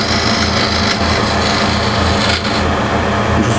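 A steel cabinet scraper with a raised burr shaves across a wooden surface in one steady, loud, continuous rasp with faint rhythmic strokes, close up and with no talking.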